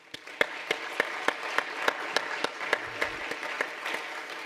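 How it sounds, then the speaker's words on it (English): A small audience at a Michigan public health awards ceremony gives a round of applause. Sparse, distinct claps fall in a loose, steady rhythm over soft room noise and stay moderately quiet. "So again, one more collective round of applause."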